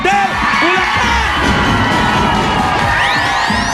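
A studio audience at a noontime variety show shouts and cheers loudly and continuously, a dense wall of crowd noise with whoops and rising voices throughout.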